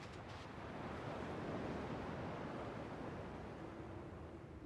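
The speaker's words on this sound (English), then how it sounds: "At least the waves sound the same." Ocean waves in Kingdom Hearts 2 wash steadily as a continuous soft rushing surf, faint and unbroken throughout with no talking.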